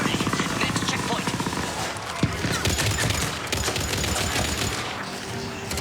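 Rapid, dense gunfire from weapons in Mass Effect 3 gameplay, a near-continuous loud barrage of shots with blasts and game effects layered over it.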